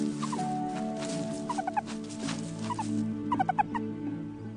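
Meerkat sentry giving a steady bleeping watchman's call, short repeated chirping notes in small clusters over a faint background hum, moderately close with no voices.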